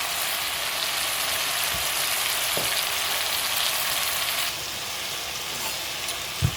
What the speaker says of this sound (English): So I'm just going to let this brown off a bit more.